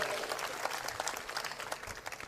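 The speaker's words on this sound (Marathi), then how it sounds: "त्यामुळे सगळ्यांनी टाळ्या वाजवून त्यांना शुभेच्छा द्याव्यात." Audience applause at a municipal election campaign rally, a sustained burst of fairly distant clapping from a crowd with some faint voices mixed in, gradually tapering off.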